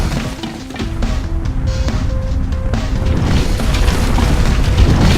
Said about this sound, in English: the cave starts to collapse